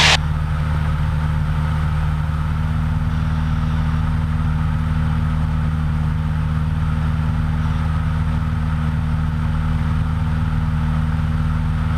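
A Cessna light aircraft engine drones steadily in flight at 2,500 feet near Peterborough airfield, a loud, even hum heard from inside the cabin.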